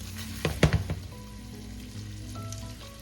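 Bacon fat heating in a pot over medium-high heat for pork sinigang gives a brief burst of crackling sizzle early on, then settles into a faint, steady frying hiss with no talking.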